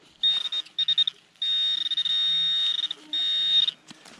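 Minelab Equinox 800 metal detector sounding a steady high electronic signal tone in a forest during a coin hunt, in several bursts with a long sustained stretch in the middle, loud and close with no talking.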